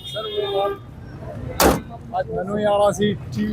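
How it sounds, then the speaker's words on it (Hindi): A car door slams shut once with a sharp, solid thud at a roadside traffic stop, set between stretches of nearby talking. "दरवाजा बंद कर दें"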